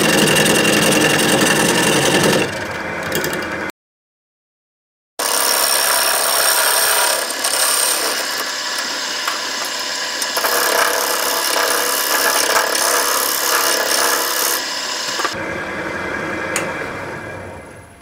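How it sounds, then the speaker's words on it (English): A diamond tool cuts a tenon on a piece of turned wood on a lathe, making a loud, continuous scraping and rubbing with a short silent gap partway through. "I'm going to use my diamond tool, because it does a nice job creating a tenon for me."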